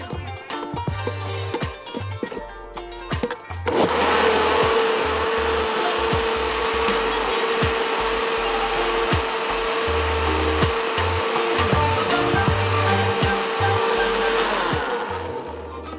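An electric blender whirs loudly and steadily for about eleven seconds, whipping jerk chicken marinade with salt, black pepper and oil into a thin, smoothie-like liquid. A few light knocks and taps come before the motor starts.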